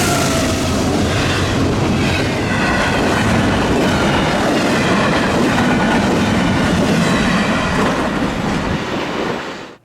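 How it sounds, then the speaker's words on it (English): A Norfolk Southern NS22M eastbound freight train rolls past on the NS Chicago Line at night, a loud, continuous roar of wheels and rattling cars with rhythmic clickety-clack that stays close throughout before cutting off at the end. "The eastbound then promptly showed up very soon after, which turned out to be NS22M with C6M junk."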